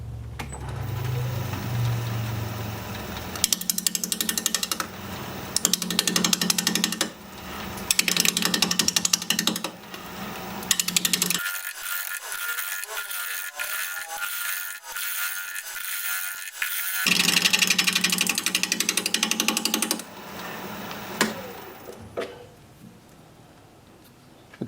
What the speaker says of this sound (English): We're gonna be turning at 700 RPM, 5/8 inch bowl gouge,